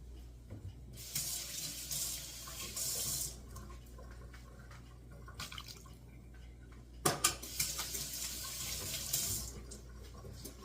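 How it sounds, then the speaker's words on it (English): Kitchen tap water running into a measuring cup for banana bread, a hissing stream that starts, stops and restarts in bursts, with a clunk of the cup or tap midway and faint drips in between. "I'm just going to finish this up with a little bit of water"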